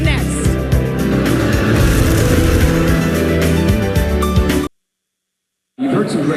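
Race cars roar around South Boston Speedway during an SRX series event, dense engine noise with revving and shifting pitch mixed with crowd or commentary, then a brief silence before the sound returns.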